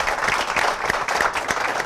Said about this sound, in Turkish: Bir daha alkış lütfen gençlere.